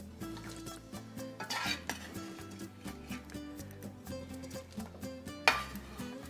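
Sautéed vegetables are scraped and stirred into the sauce for caldo de camarón with a metal spoon in a pot, giving soft repeated clinks and scrapes over a quiet sizzle, with background music playing throughout.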